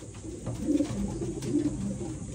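Pigeons in a breeding loft coo softly in low, repeated throaty phrases, fairly close, over a faint background hiss.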